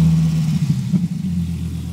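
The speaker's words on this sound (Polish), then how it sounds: "Najpierw usłyszymy silnik." A 620-horsepower car engine idles loud and close with a deep steady rumble, briefly blipped a couple of times before settling back.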